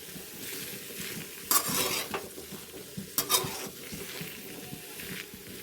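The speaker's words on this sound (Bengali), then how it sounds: "আলু ও পেঁপেগুলোকে আমি এরকমভাবে লাল লাল করে ভেজে নিব।" Potato and papaya pieces fry in a pan, a steady low sizzle running throughout, with two louder bursts of stirring and scraping near the start and middle. No one speaks.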